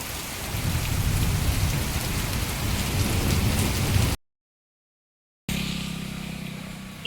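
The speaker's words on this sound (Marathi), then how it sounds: "आता पुन्हा पाऊस सुरू होता" Heavy May rain pours down steadily with a distant thunder rumble, a dense, loud hiss that breaks off and returns as a lighter shower.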